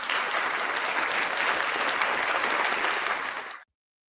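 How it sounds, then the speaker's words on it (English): A round of applause, dense continuous clapping at an even level for over three seconds before cutting off abruptly into silence. "round of applause for Mini Hez"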